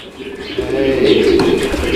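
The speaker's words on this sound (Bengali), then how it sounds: "এখানে অনেকগুলো কবুতর আছে" Pigeons coo in low, rolling murmurs close by in a pigeon loft with cages, steady throughout with faint chatter and rustling in the background.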